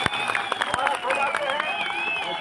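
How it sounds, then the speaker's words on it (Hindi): A crowd of Hati community members claps at a street rally in Nahan, steady overlapping hand claps with crowd murmur, and voices talking over the clapping. "तालियां बजाओ भाई।"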